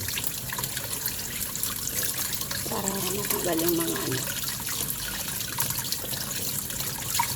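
Tap water runs steadily into a sink while pork trotters are rinsed for adobo, a soft continuous splash under a voice talking throughout.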